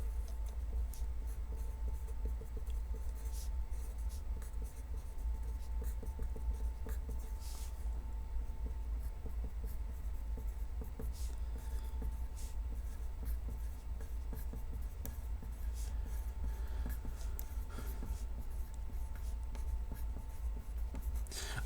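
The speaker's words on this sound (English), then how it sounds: "So let me write that down." Pen or pencil scratching across paper as chemistry notes are written by hand, a steady close, quiet run of small strokes over a low constant hum, with no talking.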